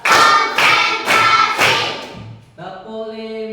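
A classroom of children claps hands together on a count, four loud group claps in a steady rhythm, followed by a brief sustained tone or voice at the end.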